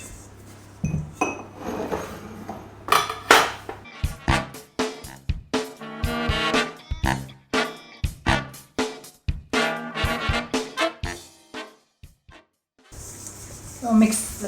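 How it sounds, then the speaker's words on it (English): Two egg whites are cracked into a little cup, giving a series of close, sharp clinks and taps of shell and glass while someone talks throughout. "Then we add 2 egg whites, just crack them into a little cup."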